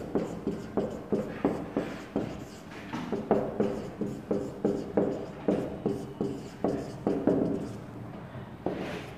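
Chalk or marker strokes on a board while an equation is written, a rapid series of short scraping and tapping strokes in uneven rhythm, fairly close and steady throughout.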